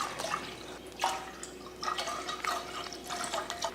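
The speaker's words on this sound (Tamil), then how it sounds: "பாயசம் பண்ணுறதுக்கு நான் வந்து 1 லிட்டர் பால் சேர்த்துக்கிறேன்." Milk, one litre, poured into a pot for payasam in a Pongal feast kitchen: a steady liquid splashing and gurgling with a few brighter bursts, close and fairly quiet, no voices.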